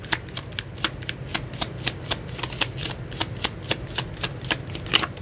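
Tarot cards being shuffled for a reading, a steady run of quick papery riffles and snaps repeating about every quarter second, close and fairly quiet, with no talking.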